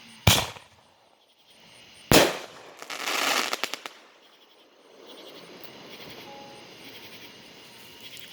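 Fourth of July fireworks going off outdoors at night, two sharp loud bangs followed by a crackling burst, then quieter distant rumbling and faint crackle, with insects chirping in the background.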